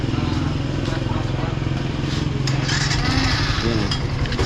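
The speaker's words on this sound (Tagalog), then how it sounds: "gumagana na rin yung ating starter motor tsaka yung ating clutch housing, wala nang kalampag nya" A Yamaha FZ motorcycle fitted with a new starter motor and clutch housing runs with a loud, steady, throbbing engine rumble close by, rising slightly in the last seconds.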